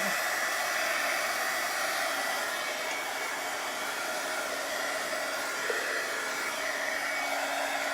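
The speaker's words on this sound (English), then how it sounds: "I'm not used to using a heat gun, but I think it gives you faster results." A heat gun blows over chalk paste on a pallet board with a steady, loud broadband roar throughout, continuous and close, with no pauses or talking.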